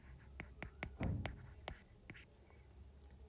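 A pen writes out a maths answer on paper in quick scratchy strokes, a handful of short taps and scribbles with one longer scrawl, close and quiet with no talking.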